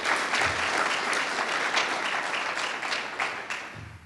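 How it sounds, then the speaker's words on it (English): A conference audience at TCBS 2016 breaks into sustained applause, dense steady clapping from a crowd that fills the space at fairly even volume and tapers slightly toward the end. "So a round of applause for your great efforts."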